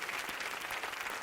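An audience claps together in steady, dense applause at a comedy show, fairly faint and heard alone for a brief moment.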